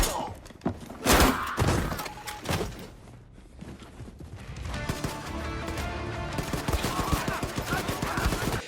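Gunfire in the first-person shooter Wolfenstein inside a Nazi courthouse: several loud, close shots and impacts with crashing debris, then a dense, continuous stretch of rapid firing and clatter.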